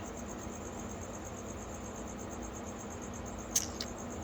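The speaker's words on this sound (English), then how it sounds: "I don't know what the hell that cricket's doing." A cricket in a room housing pet animals keeps up a steady, continuous high chirping through the whole stretch, with a brief faint knock near the end and no talking.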